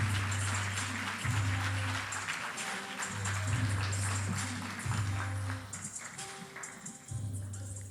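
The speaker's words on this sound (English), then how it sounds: "How about a round of applause?" A crowd claps steadily in a dense wash of applause, loud and sustained, with a low electronic hum pulsing underneath.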